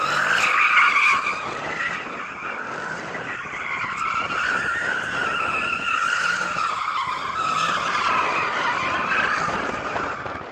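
A Mercedes C63 Black does donuts, its tyres skidding and squealing in a continuous loud screech that rises and falls as the car circles, with engine noise underneath.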